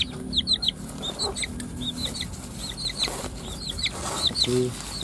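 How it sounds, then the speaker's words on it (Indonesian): Red junglefowl cluck and chirp in quick, repeated high calls over a noisy outdoor background, fairly close and moderately loud. "Ini ayam hutan juga nih"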